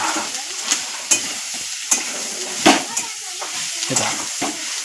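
A wild leafy vegetable sautés in a pan with a soft steady sizzle, broken by regular scraping strokes of a spatula as it is stirred, close and fairly loud.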